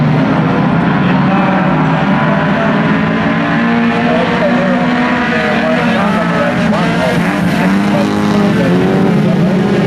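Speedway race cars roar continuously at the Dubbo speedway, a loud, dense engine drone filling the whole stretch with shifting pitch as cars circle the track, with crowd or commentary mixed in beneath.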